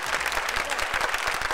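An audience claps steadily and densely for a rapper at a stage show, a continuous wash of applause throughout with no voices standing out.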